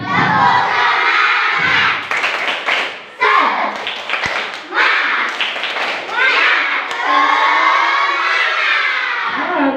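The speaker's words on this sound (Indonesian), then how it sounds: "Oke, yuk tepuk semangat." A classroom of children performing a rhythmic clap-and-chant cheer, with bursts of patterned clapping alternating with loud group shouting in short phrases, close and energetic.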